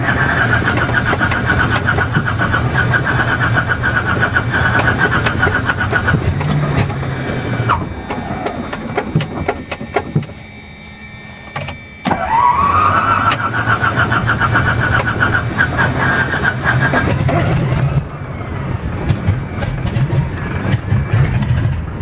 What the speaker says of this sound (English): put the throttle full rich while it was cranking, and then bring it back after the motor caught